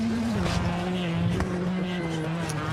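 Rally car in WRC 2018 braking hard, engine pitch dropping as the car slows, with tyre noise and a roaring, close-up exhaust tone over a continuous bed of game sound.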